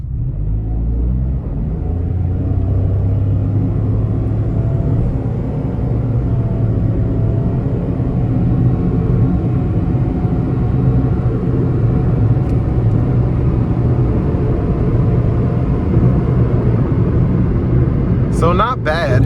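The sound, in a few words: 2024 Mitsubishi Mirage ES car engine accelerating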